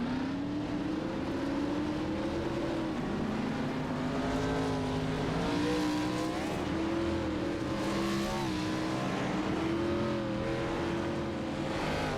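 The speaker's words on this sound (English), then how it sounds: "Love this sound of these vintage race cars." Vintage stock race cars of a Gen 4 series roll around the Darlington oval, their engines forming a loud, continuous, layered drone that rises and falls in pitch as the pack moves.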